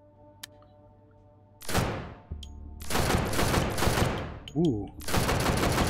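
Gun fitted with a barrel extension fires in the VR shooter Hot Dogs, Horseshoes & Hand Grenades: loud, sharp reports in a close, sustained burst, separated by brief pauses, with a short exclamation from the player partway through.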